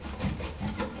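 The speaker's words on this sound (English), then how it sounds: "I'm just going to start sawing it, just nice and slow, just back and forth." A hacksaw cuts slowly back and forth through nails holding a two-gang electrical switch box, giving steady rasping strokes with a gritty metal-on-wood scrape, close and moderately loud, with no talking.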